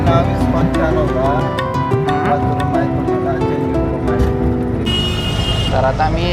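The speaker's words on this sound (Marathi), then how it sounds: "तर आता आम्ही रिक्षा करून चाललो आहे." An auto rickshaw rattles through traffic, its engine droning steadily up close while horns and surrounding road noise come and go.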